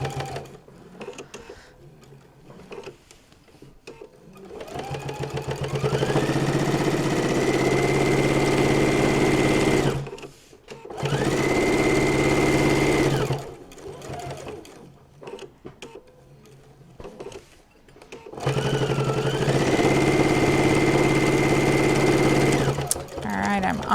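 Sewing machine stitching a fabric notebook holder, running in three sustained bursts that rise to a steady whir, with short quiet pauses between them, close and fairly loud.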